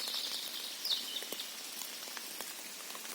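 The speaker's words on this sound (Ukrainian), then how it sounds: "Зараз дощик перестане" Rain patters in a forest in early June, with close, irregular drops tapping on leaves and other surfaces over a soft hiss, and a faint bird chirp in the background.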